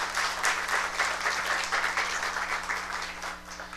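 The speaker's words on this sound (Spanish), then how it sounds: "Un fuerte aplauso al Señor, creo que se lo merece." A church congregation applauds steadily, a dense and even wash of clapping that holds at moderate level the whole way through, with no voices rising above it.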